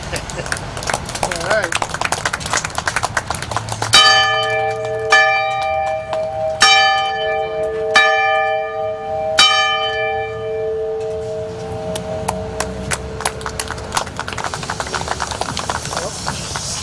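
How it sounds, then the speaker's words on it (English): A museum bell at a Veteran's Day ceremony is struck several times at slow, spaced intervals, each loud ringing tone decaying into a long shimmer, with people speaking in between. "I would like to ring the bell for all those members of my family who served in World War II and in Vietnam"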